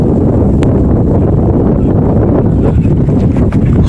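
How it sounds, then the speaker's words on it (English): Strong wind buffeting a microphone at an outdoor high school football game, a loud, constant low rumble and roar that fills the entire moment without pause. "Holy moly, Batman, it's windy."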